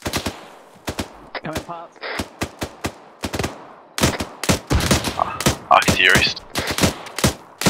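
Rapid bursts of gunfire from the military shooter ArmA 3, sharp cracks in quick runs and scattered single shots throughout, loud and close, with radio-style voices talking between and over the shots.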